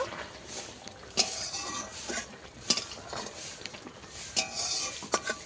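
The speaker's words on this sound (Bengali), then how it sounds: "সবশেষে আমি এক চামচ ঘি দিয়ে দেব ঘি দিয়ে একটু নেড়ে দেব" A spoon scrapes and clinks against a pan as vegetarian paneer curry is stirred after a spoonful of ghee goes in. The sounds are quiet and come in several separate knocks over a soft background, with no talking.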